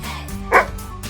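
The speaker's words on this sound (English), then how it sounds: "Oh no, a dog has wandered into the museum." A single short, sharp dog bark rings out once inside a museum over a steady low hum of background noise.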